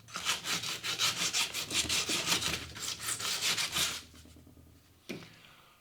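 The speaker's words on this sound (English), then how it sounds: "you will use sandpaper, an orbital sander, any type of sander to get the surface prepared to accept" Rhythmic, rasping back-and-forth sanding on a pipe surface being prepped for a PVC, HDPE or steel pipe repair patch: close, quick, even strokes for about four seconds, then quiet with a single soft knock.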